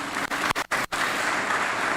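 Audience applause at a secondary school's 25th anniversary celebration, dense steady clapping with a few brief dropouts early on, then continuing strongly with no talking.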